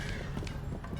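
Quick, muffled clip-clop of hooves at a running pace, a short burst of galloping thuds, from a horse race in the video game Crusader Kings III.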